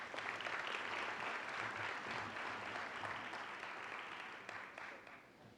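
An audience at a sports hall of fame induction ceremony applauds award winners, sustained crowd clapping that holds steady and then gradually thins and fades toward the end.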